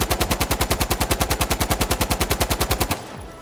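An AUG-A3 rifle in Insurgency Sandstorm fires a long, evenly paced automatic burst of about twenty-five loud, close shots, ending with a short echoing tail.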